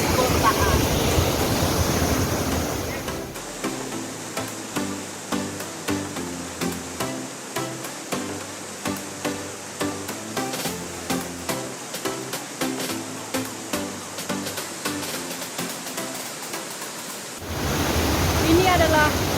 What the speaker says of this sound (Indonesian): Ini adalah air terjun tingkat kedua tadi, dan saya berada di atasnya